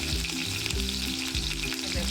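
Curry leaves and garlic cloves frying in a pan for Malvani-style raw jackfruit bhaji, a dense close sizzle with quick repeated stirring strokes, no voices.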